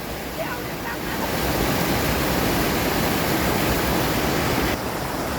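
Water pours over an overflow weir in a loud, unbroken roar of rushing flow that swells slightly and holds steady throughout.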